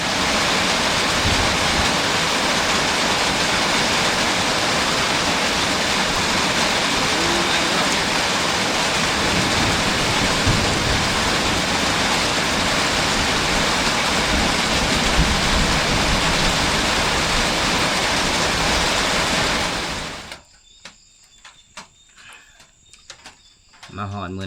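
Steady, heavy rain pours down in a forest on a wet morning, a dense unbroken hiss for about twenty seconds before it cuts away to near quiet with a few scattered clicks.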